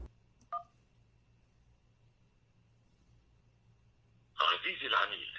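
A telephone keypad gives one short DTMF beep as the number 1 is pressed during an automated bank call, heard clearly over faint line hiss, with a recorded voice starting a few seconds later.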